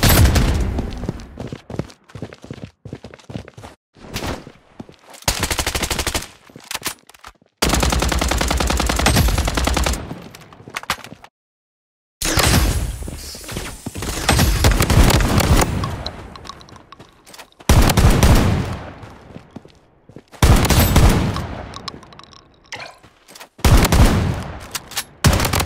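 Machine gun fire in the shooter game Blood Strike, loud sustained bursts of rapid automatic shots separated by short silences, close and alone.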